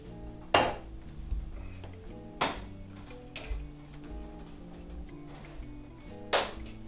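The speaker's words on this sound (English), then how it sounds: "We're going to go ahead and transfer our peas to a bowl." Mashed peas being moved from a pot into a bowl, with a few separate clinks and scrapes of a utensil against cookware at irregular intervals, fairly faint and close.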